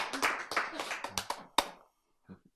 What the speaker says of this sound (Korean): 박수 열심히 쳐.